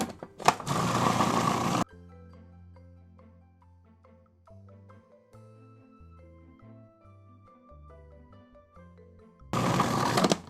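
A food processor blends hummus in two short, loud whirring bursts, one at the start and one at the end, with quiet background music in between.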